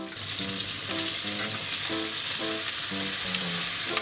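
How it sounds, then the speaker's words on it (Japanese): Green onions and shishito peppers frying in a pan over medium heat, a loud, steady close-up sizzle with faint stirring clicks and no talking. "ネギが今ねだいたいこれくらいの焼き色がつき始めたら、そしたらししとうも入れてください"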